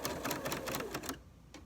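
A sewing machine stitches a folded cloth napkin edge in a quick rapid burst of needle clatter, then stops briefly before one short final stitch as it reverses.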